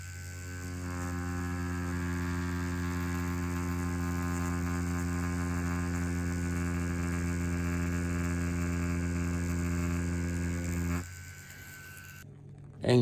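Pepax Leve H3 5.0mm stroke tattoo machine running a 5-round liner to pull lines, giving a steady, close, continuous motor hum and buzz with no talking, cutting off near the end.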